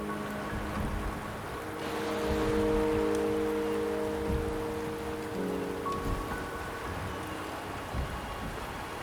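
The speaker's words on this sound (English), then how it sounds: "The rain is subsiding, and the sky will soon clear." Steady rainfall patters across the scene in the video game Wuthering Waves, a continuous soft hiss at moderate level with faint low rumbles beneath, no voices present.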